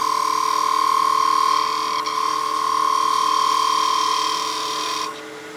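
A woodturning tool cuts a spinning top on a lathe, giving a steady, loud whirring hum with a high ringing tone and slight chatter as the tool skates on the wood, fading toward the end.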